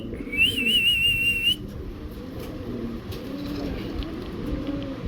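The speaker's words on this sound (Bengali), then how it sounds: "এখানে দেখতে পাচ্ছেন একটা সিরাজি মাদি কবুতর, ক্রিম বা সিরাজি, একেবারে বড় সাইজের" A large cream Sirazi female pigeon coos in low, wavering murmurs close by, preceded by a brief high whistle, with a faint murmur of other birds behind.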